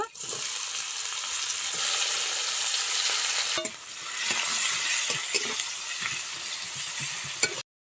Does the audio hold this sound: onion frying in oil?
yes